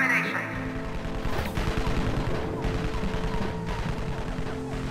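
Automated sentry guns in the Evil Genius strategy game fire at an intruder, a dense rattling burst of gunfire sustained throughout the clip with a couple of sharper cracks.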